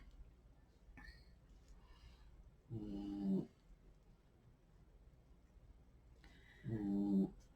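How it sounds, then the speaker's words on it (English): Two low, rumbling snore-like breaths, a few seconds apart, over a quiet room hum with faint rustling in between. "I apologize if you can hear my dog snoring in the background."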